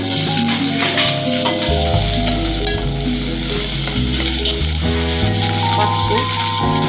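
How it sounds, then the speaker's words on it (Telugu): Potatoes fry in hot oil with onion, ginger paste and turmeric, giving a loud, continuous sizzle and crackle that holds steady throughout with no talking. "2 minutes ఒక ఆలుగడ్డ నూనెలో వేగాలండి."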